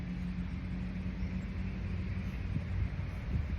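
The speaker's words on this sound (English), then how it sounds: "it's the oil refinery behind me, all the big trucks." Behind the speaker, an oil refinery and big trucks give off a continuous low, droning rumble, steady and fairly distant, with no talk over it.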